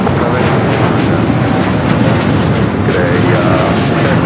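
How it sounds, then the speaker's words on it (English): A Boeing Dreamliner rolls down runway 25 right at LAX for takeoff, its jet engines producing a loud, steady broadband roar that stays close and constant throughout. "go to the Dreamliner now, rolling down that 25 at right"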